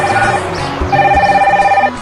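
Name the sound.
telephone ringing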